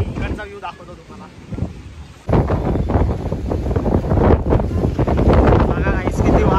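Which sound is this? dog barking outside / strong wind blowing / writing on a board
strong wind blowing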